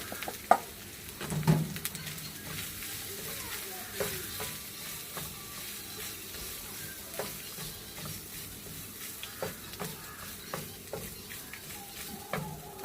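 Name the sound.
grated coconut frying with turmeric and mustard seeds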